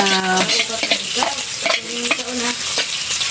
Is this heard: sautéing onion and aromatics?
yes